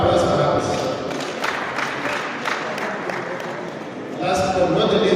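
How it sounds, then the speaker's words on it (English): An audience at a community event gives a round of applause, a dense patter of clapping that dips slightly mid-way and swells again toward the end, with a voice speaking over it. "But a round of applause for her, please."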